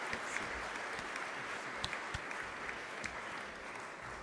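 A sizable crowd claps steadily at a press conference announcing a WNBA Toronto expansion team, the applause dense and sustained, slightly distant, with a few sharper individual claps standing out and no talk over it.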